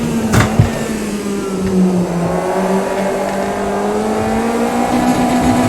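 A car engine drones steadily while driving, its pitch slowly sliding and rising as it accelerates, with a few sharp knocks early on.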